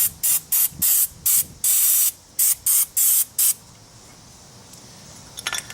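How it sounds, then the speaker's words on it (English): Several short bursts of silicone aerosol spray hiss in quick succession onto a 2002 Pontiac Grand Am front brake caliper, followed by one longer blast, close by, with faint clinks near the end. "It's my practice to spray this down with a little bit of silicone spray."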